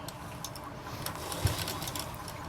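A sewing machine stitches around the folded edge of a mohri-style dhoti salwar with fancy elastic, giving a faint, steady mechanical whir with fine rapid ticking throughout.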